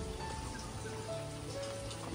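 Steady rain from Typhoon Pepito patters on surfaces in an even, continuous hiss with no voices, moderately loud and close throughout.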